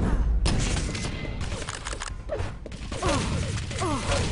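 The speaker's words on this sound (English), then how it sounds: "Easy kill with the rocket launcher." Quake Live team deathmatch gameplay with rocket launcher blasts and rapid gunfire, a busy, loud stretch of overlapping shots, explosions and mechanical weapon sounds with short rising pickup chirps near the end.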